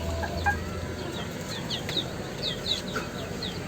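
Free-range native chickens clucking on a small poultry farm where several birds are sick and dying, with repeated short calls scattered over a steady background hum, fairly close and moderately loud.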